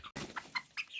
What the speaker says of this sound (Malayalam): ഇത് എല്ലാം നാടൻ കോഴികളാണ് കേട്ടോ